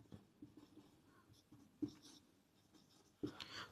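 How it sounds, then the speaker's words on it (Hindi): During a physics class, someone writes on a board, with faint, soft scratching strokes and a few louder taps in a quiet room. "यहीं पे मैं लिख देता हूं"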